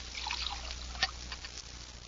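Faint trickle of water poured from a pitcher in a radio drama, with a soft splash and light dripping at low level and no voices.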